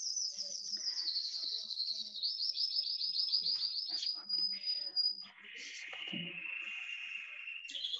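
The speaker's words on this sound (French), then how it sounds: "avec les oiseaux, ça va être costaud. Pour le coup, il chante bien." Birds singing nearby, bright rapid trilling phrases and whistled notes in quick succession, fairly faint and clear over a quiet background.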